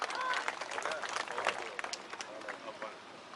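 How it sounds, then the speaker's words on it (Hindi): A crowd at a Congress rally in Haryana claps and cheers, a dense burst of applause that starts loud and gradually thins out, with scattered voices in the background. "इनके लिए भी जोरदार तालियां।"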